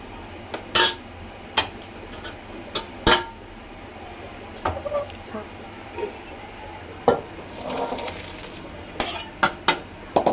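A spoon stirs cooked rice and prawns together in a metal pot for prawn rice, giving intermittent sharp clinks and scrapes against the pot over a quiet kitchen background.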